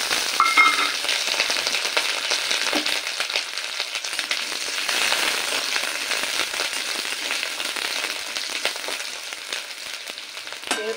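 Potatoes hiss and sizzle steadily in hot oil alongside other vegetables for a Bangal stem-vegetable chochori, a loud, continuous, close frying crackle with no talking.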